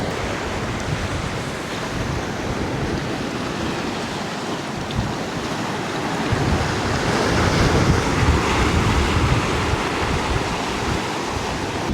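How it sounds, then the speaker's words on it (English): Ocean surf washes in between rocks at Deepwater National Park on a sunny day, a steady close roar of churning water and wind with a slightly louder surge partway through, no voices. "Nice sort of area where waves sort of come in between rocks."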